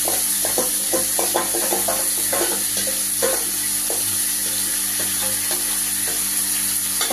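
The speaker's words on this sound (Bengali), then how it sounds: "ভালো করে ক্যাপসিকামটা একটু ভেজে নেব।" Capsicum and paneer frying in a pan for a chili paneer dish, a dense steady sizzle with repeated soft spatula knocks and scrapes, near and without voices.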